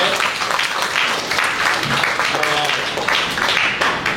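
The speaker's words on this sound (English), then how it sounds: "it would be appropriate for you to give them a round of applause" An audience at a conferment ceremony at Makati Sports Club claps in a loud, continuous round of applause, with some voices mixed into the crowd noise.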